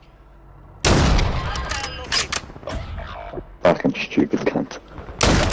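Loud close gunfire in a first-person shooter, a sudden burst of rapid shots followed by scattered cracks and clanks, with more shots bursting in at the end; a player swears over it.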